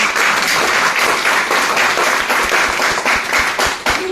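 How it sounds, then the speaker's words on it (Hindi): Loud, vigorous applause from a large audience at a seminar, many hands clapping in a dense continuous roar for over four seconds, close and full with no talking. "मैं चाहूंगी सर के लिए जोरदार ताली।"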